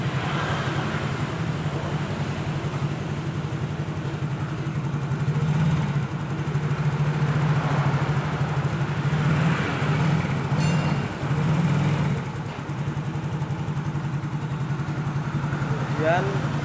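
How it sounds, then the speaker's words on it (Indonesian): A Yamaha Mio motorcycle engine, run after the oil was not changed, idles with a steady low throbbing hum that holds throughout, while someone talks over it. "terus kita coba starter"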